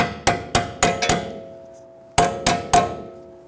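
On a Ford Taurus rear axle, a hammer strikes a bolt in sharp metallic taps: five evenly spaced blows, a pause, then three more, each ringing briefly before fading.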